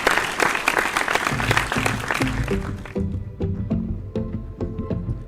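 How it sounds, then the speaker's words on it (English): An awards-event audience applauds as a speaker comes up on stage, a dense burst of clapping that thins toward scattered claps with a rhythmic musical beat underneath. "Please give her a round of applause, everyone, as she comes up on stage."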